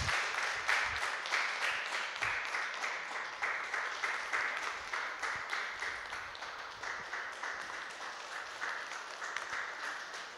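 Audience applause at a Catholic church choir music competition quarter-final, a dense, steady crowd clapping that carries on evenly for the whole stretch with no voices over it.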